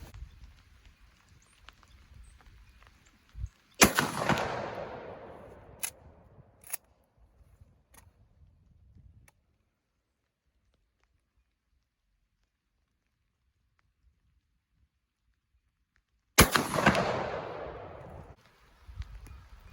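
Two shotgun slug shots fired at targets 100 yards away outdoors, each a sharp, loud blast with a trailing echo, separated by a long silent gap, with faint handling clicks after the first.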